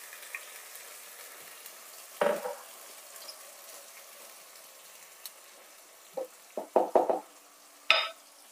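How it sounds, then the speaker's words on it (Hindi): A paste of tomato, green chilli and ginger fries quietly in a pan, with a soft steady sizzle broken by a few louder splatters and stirring knocks near the end. "इसमें डालेंगे टमाटर, हरी मिर्च और अदरक का पेस्ट।"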